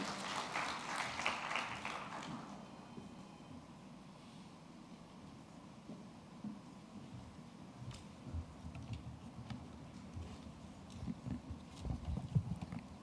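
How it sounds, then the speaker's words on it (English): Celebration audience applause, loud for the first two seconds then dropping to a thin, sparse patter of scattered claps over low room murmur. "So I'll just convey the long, big applause to Poonam as well from all of you"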